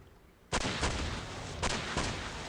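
Pyrelight guns on a vehicle in a video game fire in two loud bursts, each a sharp onset followed by sustained rumbling, broadband blasting with a brief lull between them.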